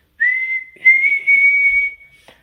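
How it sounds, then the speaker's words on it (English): A police officer's whistle is blown in a fairytale scene: one shrill, sustained blast lasting about two seconds, loud and close, with a slight wavering in the middle. "he put his whistle to his mouth and blew."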